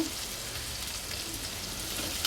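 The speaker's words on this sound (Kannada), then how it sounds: "ಚೆನ್ನಾಗಿ ಫ್ರೈ ಆಗಲಿ ಈರುಳ್ಳಿ" Onion frying in a pan with curry leaves and green chilli, a steady close hiss and crackle of sizzling oil throughout, with no voices.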